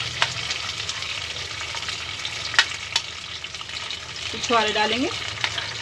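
Cardamom, raisins and dates frying in a pan for Delhi-style sheer khurma for Eid, a steady close sizzle with faint stirring clinks and a brief bubbling burst near the end, while a person talks over it.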